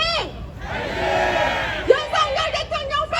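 A crowd at a Save Korea rally against impeachment in Bupyeong, Incheon, shouts slogans together in loud, ragged unison, with a leader's amplified voice calling out over them and bursts of rhythmic chanting near the end.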